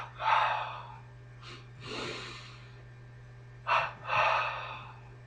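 Slow, deep breaths during a beginner yoga arm exercise, several audible inhales and exhales drawn close and clear over a steady low hum, with no talking.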